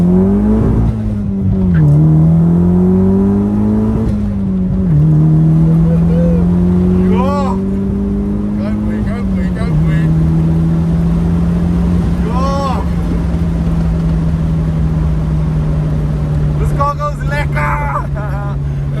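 A built-engine Nissan 200SX revs and pulls hard while driving, its loud engine note climbing and settling through gear changes, with people chattering over it inside the car.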